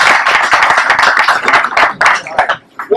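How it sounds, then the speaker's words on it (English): An audience at an aviation forum for Pietenpol aircraft claps in a close, dense burst of applause that fades out near the end. "This guy needs a round of applause."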